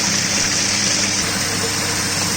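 Water pours steadily into a collecting tank below a triangular notch flow rig after a butterfly valve is shut, a continuous loud gushing rush with no voices.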